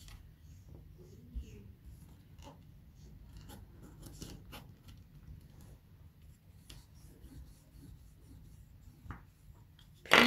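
Quiet rubbing and scratching as a paper fold is pressed and creased for a handmade mini notebook, a series of faint close scrapes with a louder tap at the very end.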